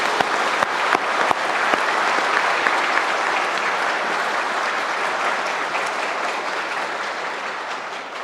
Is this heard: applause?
yes